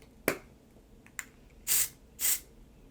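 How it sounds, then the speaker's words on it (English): Two short bursts of silk revival hair spray hiss close by, preceded by a few light clicks and taps from handling the can. "It's just an instant silk revival spray."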